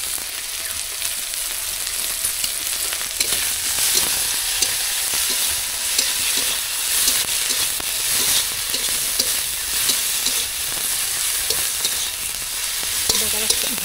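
Turmeric paste and chili paste frying in a pan for a spicy snakehead fish curry, a dense continuous sizzle with soft stirring scrapes throughout, close and steady.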